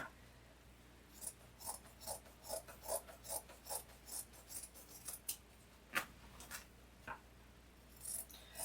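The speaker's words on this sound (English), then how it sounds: "I'm going to cut the bottoms right off these pants" Scissors snip through denim, cutting the bottoms off skinny jeans: a quick rhythmic run of crisp, close cuts and crunches, then a few slower, sharper snips, quiet with no talk.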